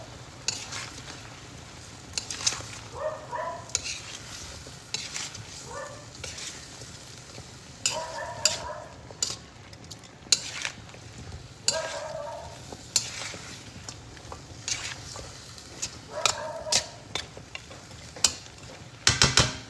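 A spoon scrapes and stirs chicken feet adobo frying in a pan, repeated clattering strokes at an uneven rhythm over a steady sizzle, close and fairly loud with no talking.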